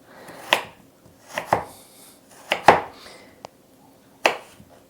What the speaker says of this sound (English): Now I'm going to cut my carrot into bite-sized pieces.